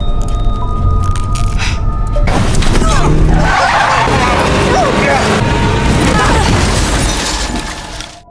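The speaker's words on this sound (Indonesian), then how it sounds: "Dia menerjangnya dengan pisau dan mobil itu berbelok hingga menabrak pohon." A car swerves and slams into a tree, a loud, close impact with shattering and crunching debris over a sustained rush of noise that fades at the end.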